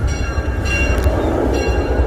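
Haunted train ride at Six Flags Over Texas rolling steadily down the track, a continuous low rumble and rattle of the cars with faint clanking, loud and close throughout.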